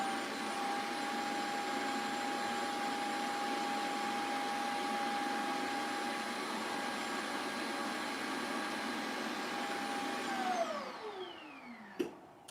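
Shark AI robot vacuum model RV2502AE with its self-empty base runs as a steady, fairly quiet whirring drone for about ten seconds, then winds down with a falling pitch, followed by a couple of faint clicks.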